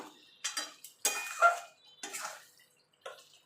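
Dry chicken cooked without water being stirred in a pan with a pinch of sugar, a series of separate scraping, clinking strokes with short quiet gaps between them.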